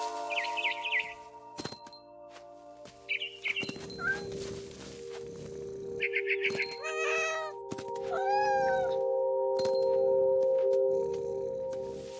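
Game-like cat meows from What Remains of Edith Finch, several short synthetic cries and chirps between chimes and electronic tones, with a background hum and no speech.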